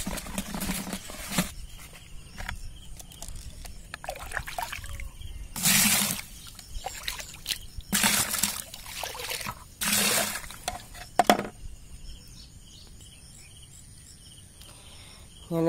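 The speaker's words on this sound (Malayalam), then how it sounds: "നമുക്ക് തടത്തിലേക്ക് സൂഡോമോണസ് ഒഴിച്ചു കൊടുക്കണം" Pseudomonas solution, mixed at 20 grams per litre in a 20-litre bucket of water, poured into a cowpea grow bag bed outdoors; several short splashing bursts over steady insect chirping.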